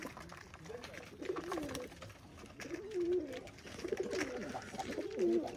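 A pet pigeon coos repeatedly nearby in soft, throaty, warbling phrases, with several rounds rising and falling over background noise.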